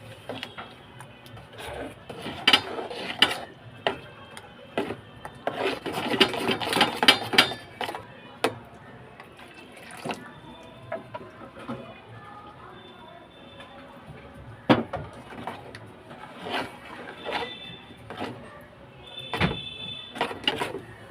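Semolina batter thinned with lukewarm water is stirred smooth in a bowl, giving repeated scraping and clattering strokes in uneven bursts, fairly close, with a voice talking between and over them.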